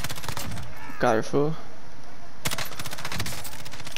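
Rapid bursts of automatic gunfire crackle in Call of Duty Modern Warfare, first in a short volley, then a longer sustained stretch, with a player's voice speaking in the pause between.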